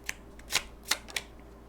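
Tarot cards being shuffled and drawn close by: a few short, crisp paper flicks and slaps spaced irregularly over a quiet background, with no talk.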